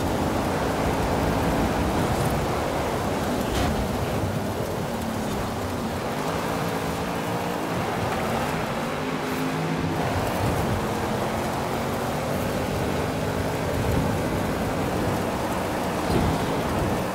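Heavy rainstorm in the video game Forza Horizon 5, a dense continuous hiss of rain with low rumbling and a car engine droning underneath throughout, loud and unbroken.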